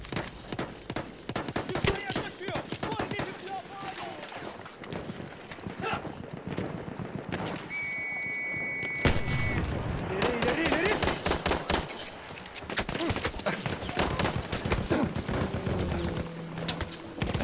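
In the Battlefield 1 video game, a horse's hooves clip-clop rapidly amid dense, sustained gunfire and machine gun bursts, loud and continuous throughout, with a brief tonal beep midway and players talking over the action.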